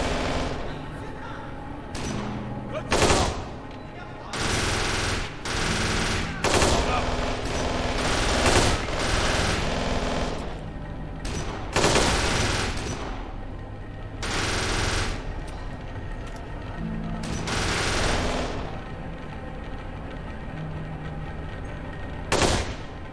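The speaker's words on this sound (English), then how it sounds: "we can tell by the gunfire" Heavy gunfire in the video game Kane and Lynch 2: Dog Days, with loud automatic bursts and single shots crackling in irregular clusters, and a voice talking over the shooting.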